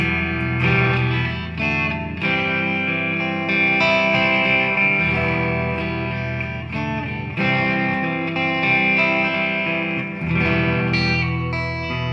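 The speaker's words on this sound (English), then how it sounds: "the next pedal that I'll move on to is the transparent overdrive here" Electric guitar chords through a transparent overdrive pedal, warm and gritty, strummed in sustained phrases with short breaks, played alone without talk.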